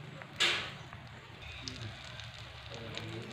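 Butter melts in a pan, giving a faint, soft crackling sizzle with scattered pops, one brief louder spit near the start.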